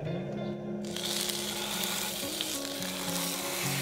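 Meat sizzles and fries steadily in a hot pan during outdoor home cooking, a dense continuous crackle that starts quiet and swells loud after the first second, with no talking over it.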